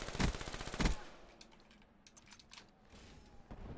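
Black Ops 3 gunfire bursts loud and rapid at the start, followed by scattered lighter game shots and clicks as the firing trails off.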